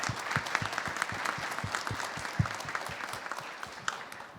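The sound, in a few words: applause for Jean Jereissati Neto at a congress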